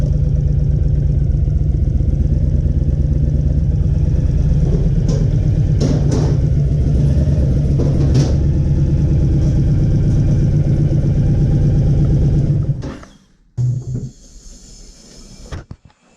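Motorcycle engine idling as the bike is brought into a garage, a close, steady throbbing rumble with a few faint clicks and knocks, then the engine cuts out and brief scraping and thuds follow.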